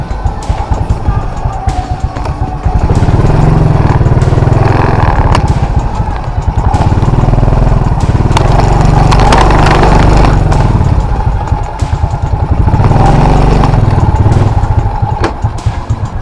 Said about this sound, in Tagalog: Garahe natin itong motor.